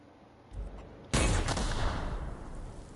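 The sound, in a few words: launcher weapon firing in video game The Outer Worlds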